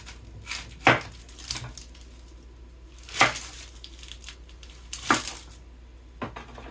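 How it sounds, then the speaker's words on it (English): A kitchen knife chops an older onion on a cutting board, giving a few sharp separate cuts with irregular pauses between them, close and clear against a quiet room. "we will go ahead and cut up 1 onion"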